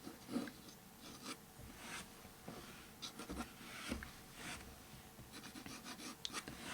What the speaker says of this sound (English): Just lightly sketching them in, and again just adding down that middle line as well.